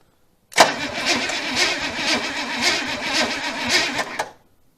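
An old engine brought back after sitting cranks on its starter for about four seconds, with rhythmic chugging pulses of compression, fairly loud and close, then stops abruptly.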